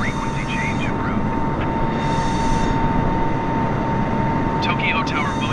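A Boeing 747-8 in Microsoft Flight Simulator 2020 gives a steady, loud engine roar, with brief radio-style voices breaking through above it.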